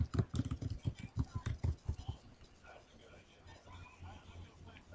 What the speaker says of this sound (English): click in your subtitle and simply type your first and last name